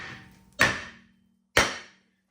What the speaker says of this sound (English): Now it's time to get our rotor off. We're just going to take a hammer to it.